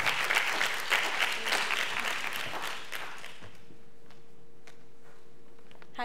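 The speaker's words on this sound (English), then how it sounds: "Let's have a warm round of applause for Julia." A classroom-teacher audience at a math ignite-talk event applauds a speaker, a dense burst of clapping that tapers off over a few seconds into quiet room tone.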